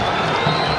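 Football stadium crowd at an APR F.C. versus AS Kigali match, a dense, even roar of clapping and cheering that holds steady through the brief moment.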